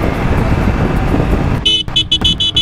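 Roadside traffic jam heard from a Yamaha R15 V3 motorcycle on an evening ride: steady low rumble of engines and road noise, then a cluster of several loud, repeated car horn honks in quick succession near the end.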